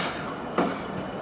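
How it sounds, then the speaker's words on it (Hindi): A Tezgam Express train pulls into the down platform at Khanpur station with a steady, close rolling rumble of wheels on rails and one brief clank partway through. "आज हमारी ट्रेन को अप वाले प्लेटफार्म की बजाय डाउन वाले प्लेटफार्म पर रिसीव किया जा रहा है"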